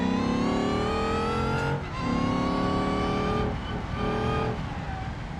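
Supercharged car engine in a racing video game, revving loud and steady with a high whining tone that climbs in pitch, dips briefly at shifts, then climbs again, heard alone.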